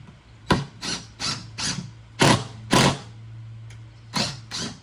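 Screws driven into 2x2 wood with a power drill for a bench and shelf unit, a series of about nine short whirring bursts in uneven rhythm over a low steady hum, close and alone.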